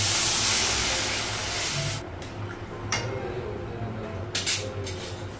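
Water splashed into a hot pan on a home stove, prepared before adding eggs for an egg and potato curry, sends up a loud hissing sizzle that fades after about two seconds, then comes back as quieter hisses.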